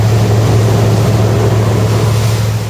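Steady, loud engine roar of a 1,400-ton steel tuna purse-seine fishing ship under way at sea, a continuous low drone with rushing water noise throughout and no pauses.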